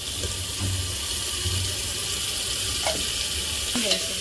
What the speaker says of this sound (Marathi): याच्यातच आपण जे वाटण करून घेतले ना ते वाटण याच्यात टाकायचे सगळं